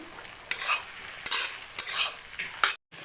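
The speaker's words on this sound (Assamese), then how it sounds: "এনেকৈ মই 15 মিনিটমান ভালকৈ ভাজি থাকিম" Pigeon meat fries in oil in a pan with a steady close sizzle, broken by several loud scraping stirs at regular intervals, ending in a brief drop to silence.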